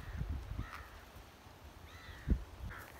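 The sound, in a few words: crows cawing on a hill in Goa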